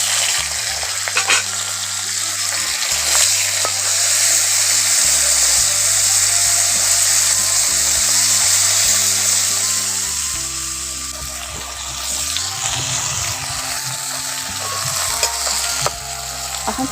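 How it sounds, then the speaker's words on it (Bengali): Shrimp frying in hot mustard oil, a loud steady sizzle with crackling bursts and occasional stirring scrapes, no voices. "এখন চিংড়ি মাছ ভাজার জন্য সরষের তেল দিয়ে দিচ্ছি"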